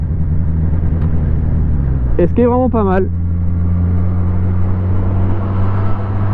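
A Suzuki Katana motorcycle with a 150 hp 1000 cc engine drones steadily while riding, with a brief rising rev in the middle, heard under someone talking.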